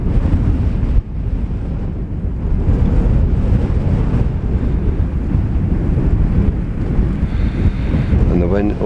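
Strong wind buffets the microphone on an exposed hillside walk on the Isle of Arran, a loud, constant roar and rumble with gusty surges and a faint voice near the end.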